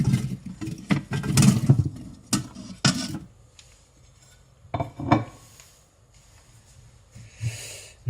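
Chopped smoothie ingredients dropped into a blender jar, a string of close clinks and thuds in short bursts with quiet pauses between them.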